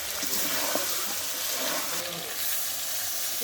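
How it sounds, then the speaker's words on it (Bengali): Water is poured into a pan where chicken is being braised with spices. The splash and sizzle of the cooking are heard together, steady and fairly quiet, with a faint voice in the background. "এই যে দেখেন পানি দিয়ে দিল।"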